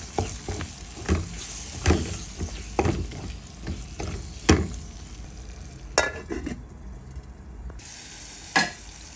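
Young snakehead fish fry in a pan with curry powder and green chillies, under a sizzling hiss broken by repeated scraping stirs of a spatula, close and moderately loud, with no voices.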